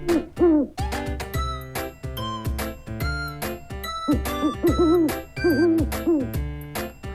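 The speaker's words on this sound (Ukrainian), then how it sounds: "Сова каже пугу" An owl hoots several times over a bright tinkling musical backing with bell-like notes.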